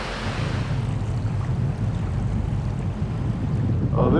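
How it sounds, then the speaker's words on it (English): A steady headwind roars and buffets the microphone while paddling down a sub-arctic wilderness river, with a constant rushing wash of wind and water throughout and no voices. "It's really weird when you're paddling into a headwind while going down river."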